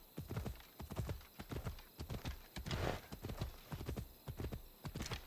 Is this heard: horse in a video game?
yes